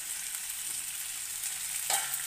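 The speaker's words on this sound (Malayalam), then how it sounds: "ഇനി നമുക്ക് അപ്പുറത്തെ വശവും കൂടി ഒന്ന് നല്ലപോലെ കുക്ക് ചെയ്തെടുക്കാം" Green chilli fish sizzles steadily in a frying pan as it cooks on its second side, a close, continuous crackle with a brief louder flare near the end.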